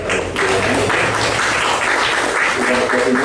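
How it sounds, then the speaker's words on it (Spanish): Audience applause for young presenters at a biocultural event, a steady, close wash of clapping with voices mixed in beneath it. "aplauso para la juventud muy preparada"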